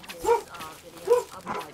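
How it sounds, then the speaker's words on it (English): Dogs in a treehouse in the video game The Forest bark in three short, mid-loud yelps spaced about half a second to a second apart, with speech-like sounds mixed in. "there's like four dogs in the treehouse"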